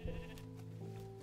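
A sheep bleats in a blocky Minecraft-style survival game, one wavering bleat that starts near and loud, holding steady and clear over a faint background hum for about a second.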